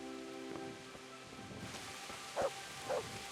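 Heavy rain pouring down in the medieval video game Kingdom Come: Deliverance, a steady soft hiss throughout with a few brief louder thuds late on and no talk.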